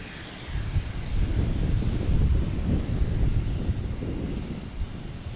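Strong wind at an airport buffets the microphone in a heavy, continuous low rumble that swells and eases over several seconds, loud and close, with no speech.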